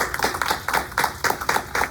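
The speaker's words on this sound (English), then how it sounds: "a round of applause" Rhythmic hand clapping at a steady beat, about four claps per second, fairly close and moderately loud, with no voices.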